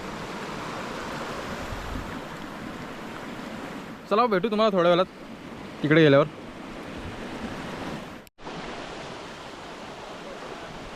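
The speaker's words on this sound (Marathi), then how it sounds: "तुम्हाला पाण्याचा आवाज येत असेल." Water at Dhekale dam lake, where people are bathing, makes a steady broad rush like surf or wind throughout. A person speaks briefly in two short stretches partway through.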